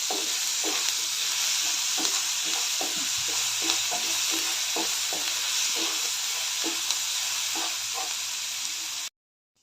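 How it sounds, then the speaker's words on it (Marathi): Onion and tomato with salt sauté in a pan, giving a loud, continuous sizzle with rhythmic stirring scrapes for about nine seconds before the sound cuts off abruptly. "मीठ घालून चांगलं मिक्स करून परतून घेऊया"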